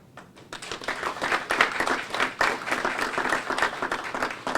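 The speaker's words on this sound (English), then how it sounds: "Please join me in applauding President Emeritus William Harris" The audience at a news conference on an audit closure breaks into applause. It swells quickly into dense, steady clapping from a room of people, fairly close and without talk.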